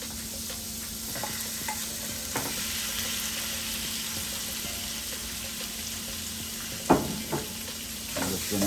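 Salmon fillets sear in a hot pan over medium heat, a steady close sizzle running throughout with a few sharper crackles and clinks from the pan, and no voices.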